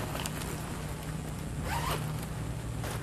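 A zipper runs along a large diaper bag, a steady close rasp lasting a few seconds over a low background hum.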